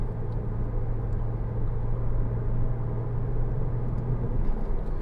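A steady, low engine drone with a constant hum, heard from inside a Porsche Cayman 2.9 (987) cruising along, no talking.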